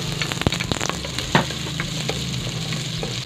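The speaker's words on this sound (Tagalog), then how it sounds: "Manggisa na tayo" Ginger and onion sautéing in a hot pan for salmon belly, a steady close sizzle with scattered clinks and stirring scrapes, with no voices.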